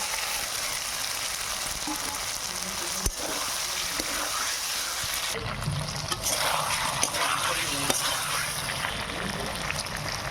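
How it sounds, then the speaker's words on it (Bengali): Egg, potato and pointed gourd tumble into hot spiced oil with turmeric, giving a steady loud sizzle and frying crackle, a sharp clatter near the third second and a louder burst of hissing as the pieces go in. "হলুদ গুঁড়ো মশলা পাঠানো হয়ে গেছে ভেজে রাখা ডিম আলু পটল দিয়ে দেবো"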